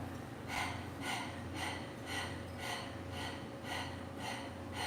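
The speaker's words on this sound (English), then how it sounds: "let's start with just doing a panting puppy breath" Rapid, rhythmic panting breaths of a Breath of Fire exercise, about two per second, soft and evenly spaced over a low steady hum.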